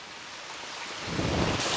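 Rain falls outdoors as a steady, broad hiss that thickens and grows louder toward the end of the short stretch, with no voices.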